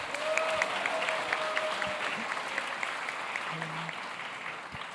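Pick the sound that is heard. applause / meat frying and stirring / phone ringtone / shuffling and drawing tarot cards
applause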